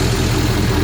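An insurance total-loss pickup truck (2500 HD fender mentioned) idles close up, a loud, steady low rumble with even engine pulses and no talking.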